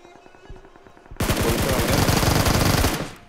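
Rapid automatic gunfire from the BGMI battle royale game: a sustained, loud burst of shots lasting nearly two seconds, preceded by a faint single shot and quiet background game sounds.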